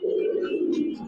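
A Giribaz racing pigeon of an old pure breed gives a close, clear throaty coo, a continuous low rolling call lasting about a second with no talk.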